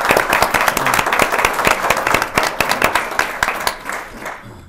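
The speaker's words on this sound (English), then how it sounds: "Clapping." An audience at a panel on the Gay Games 2014 breaks into dense, loud applause, many hands clapping at once in a steady patter that fades out toward the end.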